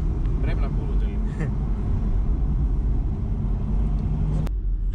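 A deep, steady engine rumble from a Porsche Boxster 981 sports car, low and continuous throughout, heard from close by without any revving.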